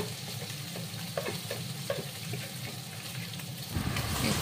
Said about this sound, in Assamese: লৰাই আছোঁ, অলপ ভাজা কৰাৰ কাৰণে।